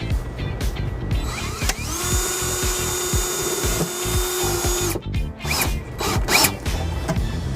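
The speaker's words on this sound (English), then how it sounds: "So I have my drill in place and we're ready to secure this ground wire." Power drill driving a fastener to secure a ground wire during trailer wiring installation on a 2019 Honda HR-V, a steady whirring run of about three seconds with a rising pitch at the start, followed by clicks and ratcheting handling noises.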